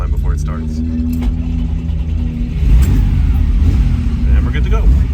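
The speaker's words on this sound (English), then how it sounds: "I do just a little bit of gas, and then it usually has to crank for some time before it starts." A 1972 Ferrari Dino 246 GTS engine cranks steadily with a low, even churn, then catches and runs louder and rougher in the second half, close by with some background noise.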